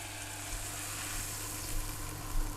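Steady, dense sizzle of a talimpu tempering frying in hot oil for dal, continuous and close throughout with a faint low hum beneath.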